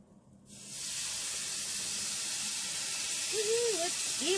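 Hot dogs steaming and sizzling in a pan with a little butter and water, a sudden loud hiss that starts after half a second and holds steady and close, with a faint whistling tone near the end.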